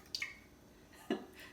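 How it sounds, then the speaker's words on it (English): Three eggs go into a large mixing bowl for a birthday cake batter: two soft, brief wet cracks and plops spaced about a second apart, quiet and close with no talking. "we're going to add 3 eggs to a large"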